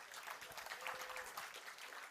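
A short burst of applause, quiet and distant-sounding, steady clapping throughout.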